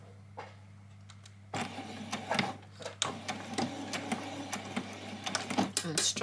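A sewing machine makes short bursts of back-stitching on a small piece of doll dress fabric, with quick irregular mechanical pulses close by and a steady hum underneath.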